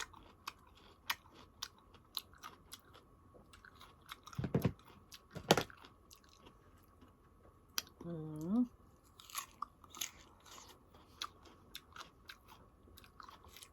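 Crunchy raw wild peach being bitten and chewed, with two loud close crisp bites near the middle, then softer scattered crunching and chewing sounds, and a brief murmured hum after.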